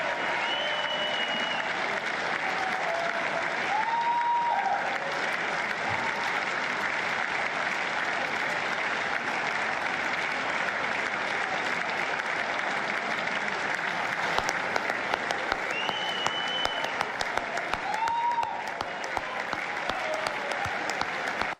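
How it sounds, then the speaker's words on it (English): Sustained audience applause at a State of the Union address fills the hall, a dense, even roar of many hands clapping continuously with occasional faint cheers rising from the crowd. "the clapping is sort of starting to die down because it should"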